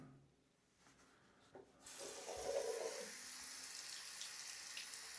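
Tap water runs over winter training gloves worn on a hand; after quiet handling noises the faucet opens with a sudden steady splashing rush that continues to the end.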